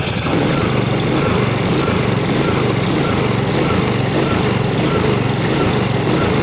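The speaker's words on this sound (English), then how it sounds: "Looks like I got some surging going on with the initial start with the auto choke" A Honda HRX2174HZA lawn mower engine runs loud and close just after an auto-choke start, a continuous buzzing roar with slight surging swells in its steady drone.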